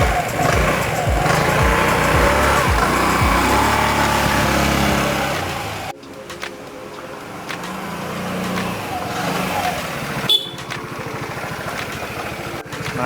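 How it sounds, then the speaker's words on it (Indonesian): A scooter motorbike engine revs loudly during a test ride, a busy roar that drops away abruptly and returns at a lower, rougher level with short bursts of throttle. "Kita tes nih motornya."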